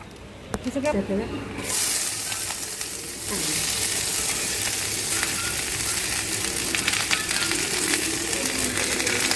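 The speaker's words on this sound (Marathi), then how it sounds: "त्याच तेलात कांदा आणि लसूण घालून भाजून घेतलं" Onion and garlic frying in hot oil for a Kolhapuri mutton meal, a steady dense sizzle that swells louder after a few seconds and continues throughout, with occasional clinks and stirring.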